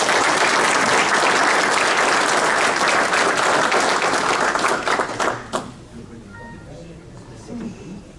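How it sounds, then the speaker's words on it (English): An annual meeting audience of the 200 Club of Morris County gives loud, sustained applause for newly elected officers and trustees, the clapping tapering off after about five seconds into quieter room noise with a few scattered claps. "Why don't we give them a great round of applause?"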